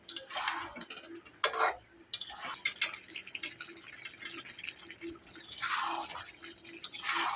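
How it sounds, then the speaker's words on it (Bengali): Beef and bottle gourd being stir-fried in a pan: quiet, uneven scraping and stirring bursts over a faint sizzle, close by with no talking. "এটাকে ভালো করে একটু কষিয়ে নেবো আগে লাউটাকে"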